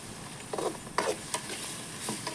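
Onions fry for prawn thokku in a quiet, steady sizzle, broken by a few distinct scraping strokes of a spoon stirring the pan, close by with no voices.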